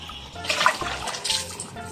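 Water splashes and sloshes in a basin as a stained shirt is rinsed, with short irregular splashes close by and no talking.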